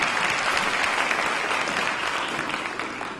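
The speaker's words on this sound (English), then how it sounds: "please join me in giving Vi Higginson's Gospel for Teens Choir another round of applause" Sustained audience applause for a teen gospel choir at an awards ceremony, a dense, loud, even wash of clapping that holds steady before tapering slightly at the end.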